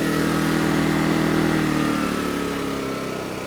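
Champion 2500 watt dual fuel portable generator running in eco mode, a steady close engine hum with a buzzing tone that eases slightly toward the end, no voices.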